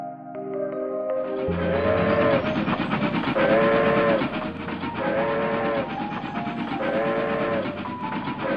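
A train at a railway station, loud and near, with rumbling wagons and a high whistle that sounds three times in a regular rhythm, with no talk.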